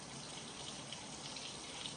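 Water rinses a metal sample that has just been etched and is being prepared for microscopic examination, making a steady, even rush of running water with no pauses.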